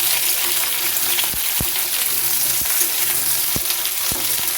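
Halved flat beans fry in hot mustard oil in a pan, a loud, constant sizzle and crackle up close, with a few soft knocks from stirring.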